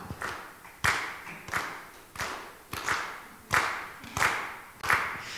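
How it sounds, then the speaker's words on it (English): A group of people clap hands together in loose unison, about eight sharp, separate claps spaced roughly two-thirds of a second apart, each ringing briefly in a room, with no talking. "You heard clapping, right?"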